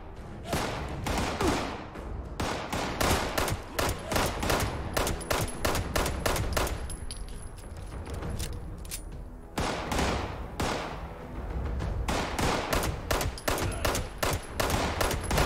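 Rapid gunfire in Fallout 76, dense bursts of loud automatic shots rattling almost continuously with a brief lull midway, no talk over them.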